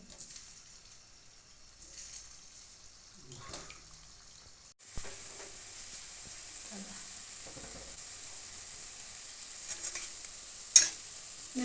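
Faint bubbling sizzle of rice cakes frying in a pan rises and holds steady after a quiet start as the gas is turned up, with scattered scrapes and one sharp clink near the end.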